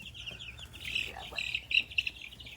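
Lavender Ameraucana chickens cluck and chirp softly nearby in a few short, scattered calls over quiet background.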